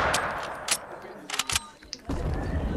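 Sniper shots crack in Fortnite, several sharp separate reports spread over a few seconds, with a voice talking faintly beneath the game sounds.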